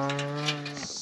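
A single long, droning moo from a cow, fairly close and steady, tapering off at the end.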